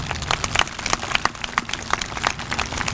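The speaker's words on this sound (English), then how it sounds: "Please join me in giving them a round of applause." Scattered audience clapping for assistant principals at a high school graduation ceremony, a thin, uneven patter of individual claps continuing steadily for a few seconds.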